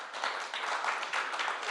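A conference audience at the Paris Air Forum claps in a sustained burst of applause, moderately loud and evenly dense, with no talk over it.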